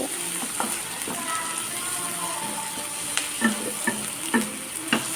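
Onions sautéing in a pan until golden, a steady frying hiss with light scraping stir strokes and a few louder clinks of a utensil toward the end, close and fairly loud with no talk.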